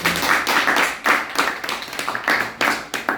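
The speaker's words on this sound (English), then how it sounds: "Please, another round of applause" A round of applause from a small audience at a presentation, sparse distinct handclaps in loose uneven bursts, fairly close and alone with no talk.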